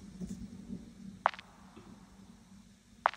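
Two layered lofi snare drums in Logic Pro X, one with delay and one EQ'd and sent to reverb, striking twice as short crisp hits about two seconds apart over a quiet, low background.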